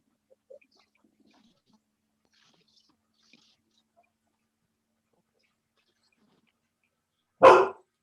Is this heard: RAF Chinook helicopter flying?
no